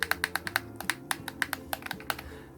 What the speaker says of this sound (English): when I'm playing a game and I'm clicking it back and forth, you can hear it smashing along the plastic